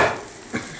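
Three garlic cloves fry in a thin drizzle of olive oil in a pan, a soft sizzle with a couple of brief stirring scrapes, close and quiet without voices.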